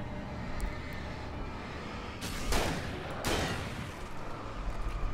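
Two flashbang blasts in the video game Alan Wake, a pair of sharp bursts about a second apart over a dense, rumbling in-game background, moderately loud and close.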